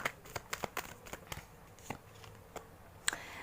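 Tarot cards are shuffled and drawn by hand, making a string of quiet, crisp flicks and slaps at an uneven rhythm, close but soft, with one sharper snap near the end and no talking.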